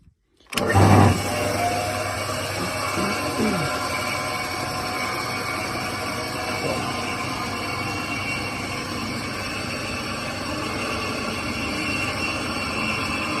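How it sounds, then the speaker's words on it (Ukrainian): A farm feed mixer starts with a sudden thump and then runs at a steady, loud mechanical drone with an even hum and faint rattling that holds constant throughout. "Так, кормозмішувач. Зараз запустимо його в роботу."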